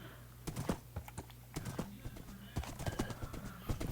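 Skeleton horse hooves in the video game Minecraft clip-clop in quick, uneven bursts of sharp close steps, repeating through the whole stretch.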